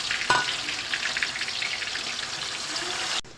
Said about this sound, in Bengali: পেঁয়াজ হালকা ভাজা হয়ে গেলে কাঁচামরিচ দিয়ে দিবে